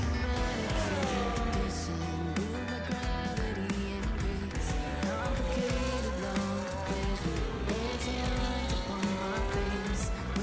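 Formula 1 car at Spa in a racing video game, driving on a wet track in the rain, engine note rising and falling through gear changes with spray and tire noise, loud and continuous without talk.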